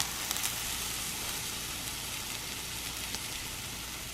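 Soaked bread slices fry gently in oiled pan, giving a steady, quiet, even sizzle throughout with no talking.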